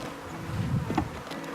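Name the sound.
honey bees being dumped onto a hive frame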